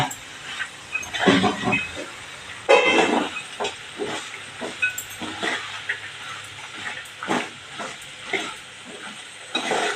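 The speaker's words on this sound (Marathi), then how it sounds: "हे आपण चांगलं परतून घेऊया म्हणजे मसाला सगळीकडे व्यवस्थित लागेल" Spoon scraping and stirring potato and green peas in masala in a pan, with irregular rhythmic strokes over a frying sizzle, close up with no talking.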